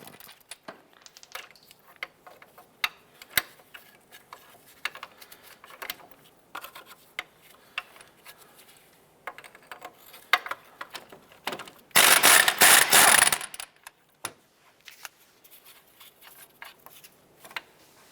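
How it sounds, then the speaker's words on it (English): An 18 mm ratchet socket and 15 mm wrench work the strut nuts loose on a 2011-2019 Ford Fiesta, with scattered metallic clicks and taps, then a loud dense burst of rapid ratcheting for a couple of seconds near the end. "Using an 18 millimeter socket and a 15 millimeter wrench, let's go ahead and remove the nuts on the struts."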